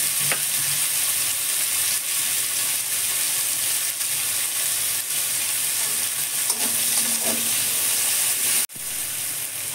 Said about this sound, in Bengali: আমার টমেটো ভাজা হয়ে গেছে।